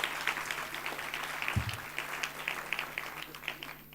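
An audience at a World Intellectual Property Day celebration ceremony gives sustained, even applause, a steady wash of many hands clapping at moderate distance.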